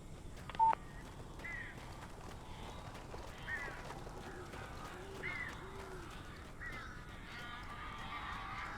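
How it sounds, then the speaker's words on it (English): Crows caw repeatedly in the video game Alan Wake Remastered, a series of harsh calls spread across the scene over a quiet ambient background, with a short electronic beep near the start. "These birds are weird."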